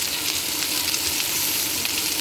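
Marinated pork and cabbage stir-fry in a hot pan with a dense, steady sizzle and crackle, loud and close, continuing without pause.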